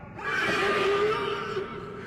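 A horse neighs in a film scene, a single drawn-out whinny that rises and wavers for about two seconds, close and fairly loud.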